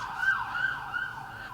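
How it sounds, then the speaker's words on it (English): A wailing siren drifts in from a distance, rising and falling steadily and sustained throughout with no voices. "And I hear sirens outside."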